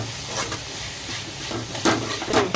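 Onions, tomato and turmeric sauté in a pan for pasta, giving a steady broadband hiss and sizzle throughout, with a few brief louder bursts near the end.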